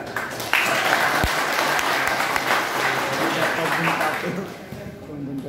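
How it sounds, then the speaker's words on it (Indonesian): Applause from an audience at a question-and-answer talk, a spread of clapping that swells, holds, then thins toward the end, with voices talking over it. "Tepuk tangan dulu lah."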